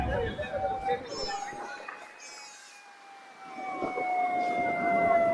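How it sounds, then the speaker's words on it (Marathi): A long, steady siren wails in the distance at a crowded Goa beach, holding a high tone over crowd noise and passing traffic, with voices chattering nearby. "इथे सायरन वाजलेला आहे."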